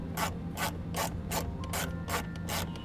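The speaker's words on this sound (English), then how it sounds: "Now remove the 2 screws that hold in your control panel here." A screwdriver backs out screws from a 2017 Ford F-250 truck's dashboard control panel, making a steady run of rapid ratcheting clicks in about seven distinct bursts, close and clear with no talking.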